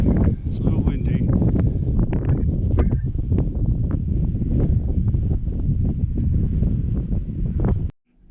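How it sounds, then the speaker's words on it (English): Steady low wind buffeting a microphone at a rocky overlook at Hickison Petroglyphs near Austin, Nevada, a constant rumbling roar with scattered rustling bursts, cutting off abruptly near the end. "It's a little windy."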